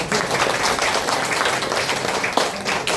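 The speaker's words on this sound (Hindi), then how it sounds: "फिर से ताली बजाएंगे सभी लोग" A crowd at a DXN gathering in Malangawa, Nepal claps loudly and continuously, a close, dense rattle of hands sustained for about three seconds.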